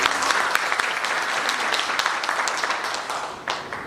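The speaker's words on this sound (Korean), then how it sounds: "다시 한번 큰 박수" A crowd applauding steadily at a Korean labor union seminar, dense clapping throughout that fades slightly toward the end.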